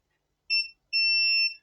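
A multimeter gives two electronic continuity beeps while probing a Nintendo Switch circuit board under repair, one short and one longer, clear and close against silence.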